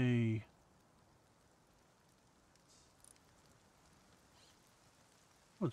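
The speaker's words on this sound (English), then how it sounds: "Oh, it's raining." Rain falls in the video game Rust as a faint, steady patter under a brief voice at the start, with a few soft taps scattered through and a short thump at the end.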